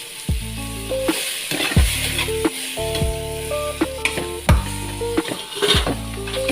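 Bagis, a Tarlac dish, frying loudly in its own oil in a pan while a utensil stirs and scrapes it in repeated close strokes over a steady sizzle.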